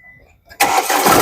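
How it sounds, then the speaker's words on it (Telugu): A 2017 Tata Hexa XTA diesel engine cranks and catches on a single start, a quiet moment giving way to a sudden loud, steady rumble close by. "సింగిల్ సెల్ఫ్లో బండి స్టార్ట్ అవుతుంది."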